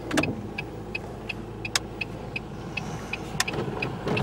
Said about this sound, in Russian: Ну идет нормально машина.